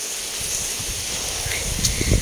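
Outdoor wind buffets steadily against the microphone with a soft rustle of leaves, a constant broadband rush that swells slightly near the end, with no voices.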